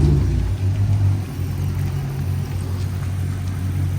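Hoodless Dodge Charger Hemi muscle cars rumble and rev loudly and close by on a city street, a deep continuous engine drone swelling and easing without pause.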